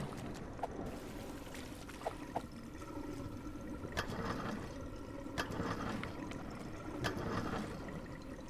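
Water being dumped out in the video game Drain Simulator, in a flooded market area: a continuous splashing pour with trickling and a few sharper splashes, fairly close, with no voices.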